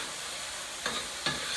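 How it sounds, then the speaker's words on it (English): Chili is stirred in a pot on the stove in a home kitchen, giving two short scraping strokes over a steady sizzling hiss, with no talking. "Stir that through one more time."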